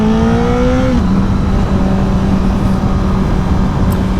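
A nearby convertible BMW M4 engine revs loudly, its rising pitch dropping off after a second into a steady, throaty idle-like drone with no talking.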